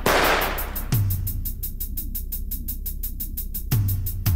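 Spaceship weapons in a sci-fi show fire in a rapid, loud, evenly spaced stream of bright zaps, with heavier booming impacts punctuating the barrage.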